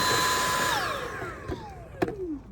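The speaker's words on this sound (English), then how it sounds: "I have a little hand vac, so I'm just going to vacuum it out." A small handheld vacuum cleans out the engine air filter box of a Subaru Forester, its motor whining steadily and then winding down in pitch, with a couple of sharp knocks near the end.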